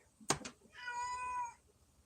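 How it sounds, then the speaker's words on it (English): A cat gives a sharp short chirp followed by a drawn-out, clear meow about a second long, close by in a quiet kitchen. "Yes, cat."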